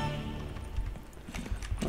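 Clip-clop of Geralt's horse's hooves in The Witcher 3, steady rhythmic hoofbeats over a low ambient game soundscape, moderately loud and without speech.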